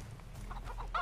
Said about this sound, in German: Cool gemacht hier mit den Hühnern. Mit dem Hühnerstall.